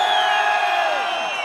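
A large stadium crowd roars and cheers at a concert in Bogotá, a dense, sustained wall of whooping voices.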